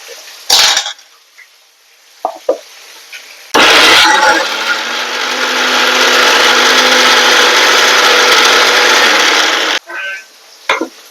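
An electric mixer grinder blends onion pieces, coriander seeds and cumin into a paste for a fish curry, running loud and steady for about six seconds, with brief clatters of the jar before and after.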